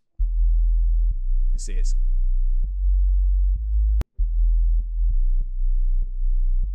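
A deep sub-bass line, rolled off above 50 Hz and side-chained to the kick, throbs in repeated pulses that duck and swell, with a brief chirp and a short spoken phrase over it.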